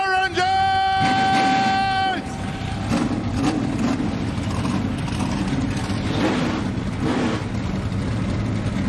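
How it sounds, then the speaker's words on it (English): NASCAR Craftsman Truck Series trucks fire up at Daytona for the 2024 season opener: a sustained, loud, roaring mass of engines that builds after a brief tonal opening and rumbles steadily throughout. "Drivers, start your engines!"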